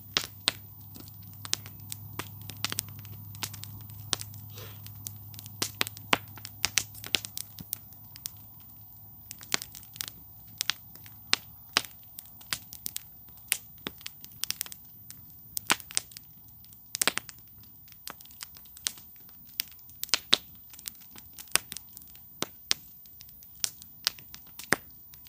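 A morning campfire crackles with sharp, scattered pops and snaps at an irregular rhythm over a quiet background, faint and close, with no voices.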